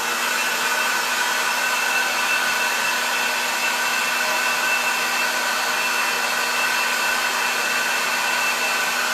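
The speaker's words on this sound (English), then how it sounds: "I'm using the cool setting on the blow dryer." A blow dryer on its cool setting blows steadily over a board, a loud, close, unbroken whirring hiss with a faint motor whine and no change in level.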